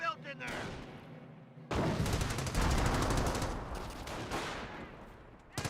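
A .30 cal machine gun in Company of Heroes rattles off a long, steady stream of rapid shots, fairly close and loud, with a narrating voice over the fire.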